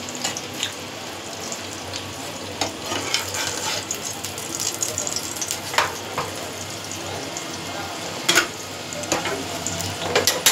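Egg roll flatbread frying in a pan over low heat, a steady close sizzle broken by occasional scrapes and knocks of a utensil, with no talk.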